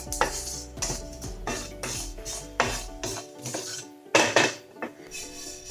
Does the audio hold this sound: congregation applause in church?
no